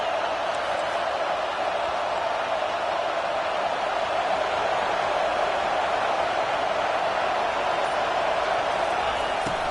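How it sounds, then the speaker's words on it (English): Stadium crowd at a college football game, a dense, steady roar of many voices filling the whole stretch without a break, loud and constant. "This crowd bringing the energy and noise early."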